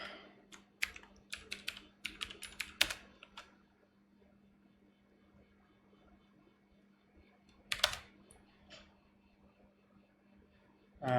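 Keys clatter on a worn-out computer keyboard in quick irregular bursts, loud and close, with a pause and a later short flurry over a faint steady hum.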